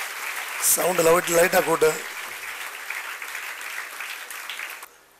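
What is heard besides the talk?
audience applauding special guests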